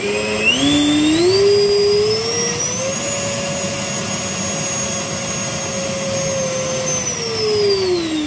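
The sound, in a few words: Fly Fly F4 Phantom model jet thrust test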